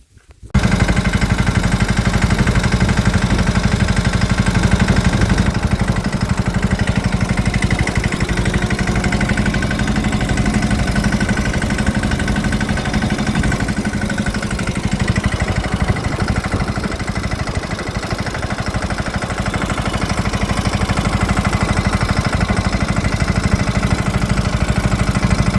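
A farm tractor engine runs in a village field during urad harvesting and cumin sowing work. It gives a steady, loud, close diesel drone that holds for the whole stretch with no talk over it.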